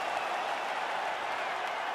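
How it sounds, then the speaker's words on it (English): A UFC arena crowd cheers and applauds after a full 25-minute fight, a dense, steady roar of clapping and voices with no breaks, while a commentator speaks over it. "Stand and cheer, ladies and gentlemen."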